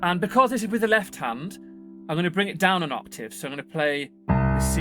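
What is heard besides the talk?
No everyday noises stand out.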